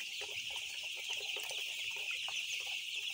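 Chickens on a Bangladeshi poultry farm on a cold winter morning, soft overlapping clucks and murmurs from many birds over a steady high-pitched background hiss, fairly faint and continuous.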